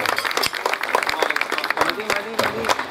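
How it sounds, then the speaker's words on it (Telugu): Scattered clapping from a gathering at an Ayyappa Swami Mahapadi puja, light and uneven, heard under a voice speaking continuously over it. "అందరూ ఒకసారి క్లాప్స్ కూడా"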